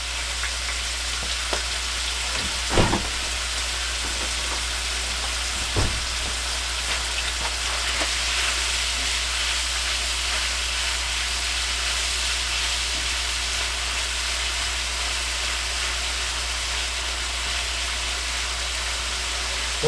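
Meat seasoned with salt and black pepper browns in a pan for a steak dip, with a steady, even frying sizzle throughout and a couple of brief utensil knocks early on.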